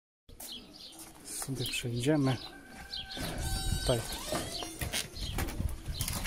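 Racing pigeons coo and flutter their wings inside a pigeon loft for young birds, close and busy, while people talk briefly over the birds.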